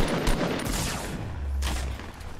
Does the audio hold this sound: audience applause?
no